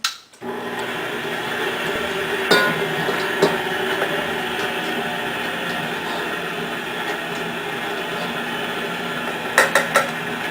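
An electric mixer blends sugar cookie batter for raspberry iced cookies, a steady whirring hum running throughout with occasional clinks of a bowl or utensil, no talking.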